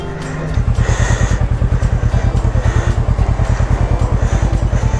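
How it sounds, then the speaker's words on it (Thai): A motorcycle ridden around in Ayutthaya at dusk, its engine starting up then chugging close and loud with a steady, even pulse. "เดี๋ยวเราไปขี่รถวนเล่นดูข้างในฮะ"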